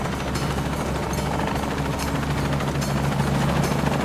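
A helicopter in Shadow of the Tomb Raider drones with a steady, close rotor thump and engine whine, unbroken for the whole stretch.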